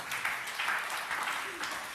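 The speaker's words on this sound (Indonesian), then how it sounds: "Yang mau tepuk tangan yang meriah bagi Tuhan Yesus." A church congregation applauds in a dense, even wash of many hands clapping, moderately distant and sustained for a couple of seconds, with no speech over it.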